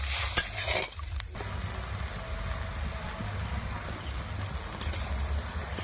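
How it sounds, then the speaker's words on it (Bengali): Sugar syrup boiling in a pan for a syrupy palm-fruit sweet: soft, steady bubbling and faint simmer noise throughout, with a couple of light utensil clinks near the start. "চিনির রসটা ফুটে উঠে গেছে।"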